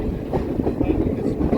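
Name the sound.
Verde Canyon Railroad train ride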